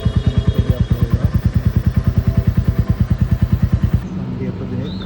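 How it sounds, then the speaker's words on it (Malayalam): A Royal Enfield Meteor 350 motorcycle idles in first gear with its rear tyre turning, giving a loud, even, thumping single-cylinder beat that stops abruptly near the end, leaving a quieter hum. "ഇപ്പോൾ ഫസ്റ്റ് ഗിയറിലിട്ടാണ് നമ്മൾ ബൈക്കിൻ്റെ ടയർ ഇറക്കിക്കൊണ്ടിരിക്കുന്നത്"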